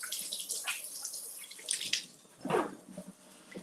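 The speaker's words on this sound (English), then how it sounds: "Let me wash my hands." Tap water runs and splashes as hands are washed at a kitchen sink while cooking, a close, fairly quiet stream with uneven splashing bursts and no talking.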